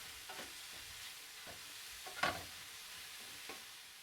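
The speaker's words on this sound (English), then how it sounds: "Cook this out roughly 7 or 8 minutes, stirring frequently" Sliced mushrooms, shallot and garlic with a little miso sautéing in a pan, a quiet soft sizzle broken by a few scraping stirs of a utensil, one louder knock midway.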